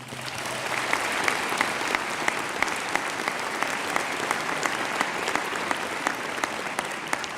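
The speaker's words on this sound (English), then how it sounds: "So please, one round of applause for them again." An audience at a law school commencement applauds graduates' families, sustaining a long, dense, even round of clapping with scattered sharper claps throughout.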